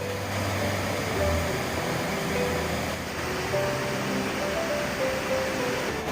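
Water pours steadily over a waterfall into a pool in Muju's Gucheondong valley, a constant broad rushing roar with no breaks, close and even in level.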